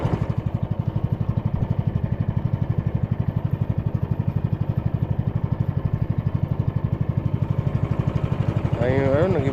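A small fishing boat's motor chugs in a fast, even putter, steady and close for the whole stretch, rising slightly near the end.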